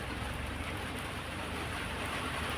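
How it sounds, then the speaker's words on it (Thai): Steady, heavy rainfall with thunder over rice fields, a constant hiss and a low rumbling undertone, close and continuous. "ฝนตกมาฟ้าร้อง มาด้วย"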